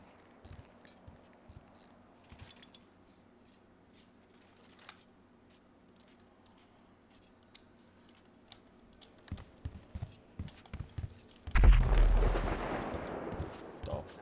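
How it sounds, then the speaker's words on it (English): An explosion goes off in a GTA 5 roleplay game during a house robbery: a sudden loud, heavy boom near the end that rumbles on, after a stretch of quieter scattered clicks and knocks. "You heard that explosion?"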